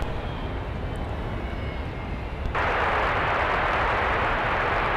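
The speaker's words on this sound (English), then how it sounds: "717 with the eyebrow windows crossing the south parallel runway" Delta Boeing 717 jet crossing the south parallel runway at MSP airport, a steady broadband engine roar that jumps sharply louder and brighter halfway through as the jet passes close, with no voices over it.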